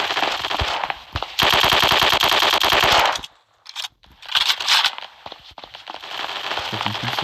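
Rapid automatic gunfire in the video game Block Strike, loud dense bursts with short pauses between them, with a voice heard talking at times.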